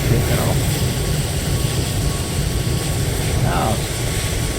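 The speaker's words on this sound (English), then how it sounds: "That plane's taking off." Airliner engines roar steadily through a takeoff in Microsoft Flight Simulator 2020, a Fenix A320 departing Newcastle, loud and continuous with no break.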